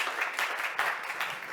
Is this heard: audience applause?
yes